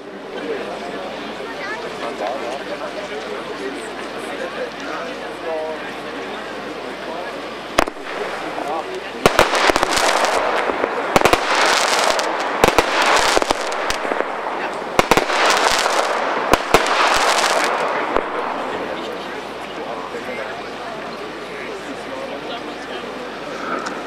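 A small firework battery fires a rapid series of sharp bangs and crackling bursts, loud and close, in quick clusters over a steady outdoor background with distant voices.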